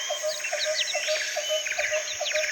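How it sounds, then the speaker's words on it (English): Two birds give repeated chirping calls in a steady rhythm, the bright tweets recurring every half second or so, fairly close and clear over a faint background with no talk. "bird calls"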